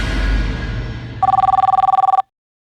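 A telephone rings in a fast warbling electronic trill, loud and close, cutting in after a second of muffled background noise and stopping abruptly.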